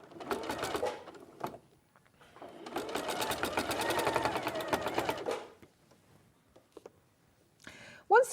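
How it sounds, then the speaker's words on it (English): A sewing machine stitches fabric in two runs, a short burst and then a longer steady rattling stretch, close and fairly quiet, with brief pauses and small handling noises between. "So just pop it on the machine and just sew it."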